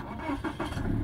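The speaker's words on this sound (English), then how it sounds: "Engine starts right up" A 2013 Scion FR-S engine cranking and catching on a push-button start, a short rough rumble that quickly settles into a steady idle, heard close by.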